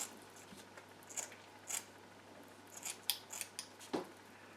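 Scissors snip repeatedly in short, crisp cuts at an uneven pace through a material being cut into strips, close and quiet against a soft background hum.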